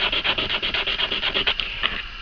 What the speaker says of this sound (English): And once again our sanding block, just clean up those edges